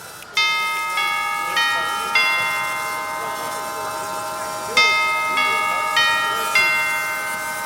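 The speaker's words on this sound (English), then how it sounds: "The door chime of great annoyance contains 4 strikers made up of rotary solenoids, sequenced by an Arduino Pro Micro" Homemade door chime with four rotary solenoid strikers sequenced by an Arduino Pro Micro rings out in two runs of clear metallic tones, each strike bright and ringing with a slow decay, loud and close.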